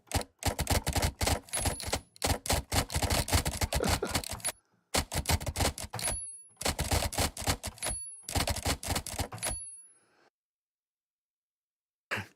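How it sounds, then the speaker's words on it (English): Typewriter sound effects from a keyboard sound app on iOS: rapid bursts of clacking keystrokes in several runs with short pauses and a few bell-like dings, close and loud, then silence. "So then back to your typewriter."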